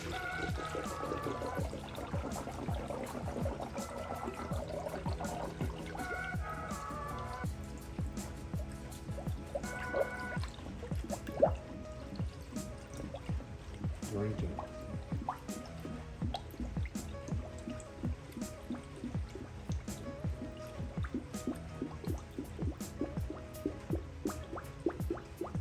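Coolant is poured into a Mishimoto radiator in a Mazda Miata, a steady close liquid pour with dripping and gurgling filling throughout, alongside faint background music and no speech.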